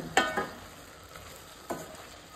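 Cooked dal and potato with salt stirred in, heard as a couple of brief, sharp spoon scrapes and clinks against the pot over a faint background sizzle, with a pause between strokes.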